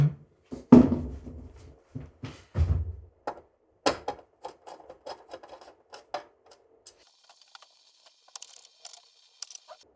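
A screwdriver turning and catching screws on a Prusa 3D printer heatbed, close clicks and scraping taps, louder and clustered at first, then lighter scattered ticks fading out.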